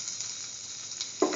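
Ginger sizzles in hot oil in a pan, a soft, steady crackle with a brief louder hiss near the end as something is stirred or added.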